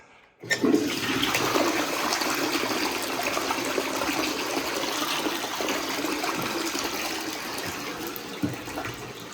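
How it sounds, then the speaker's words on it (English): A newly installed toilet in a bathroom under renovation flushes with a sudden loud rush. The water keeps gushing and hissing steadily as the cistern refills, close up, with no talking. "I presume I flush it to get water in there."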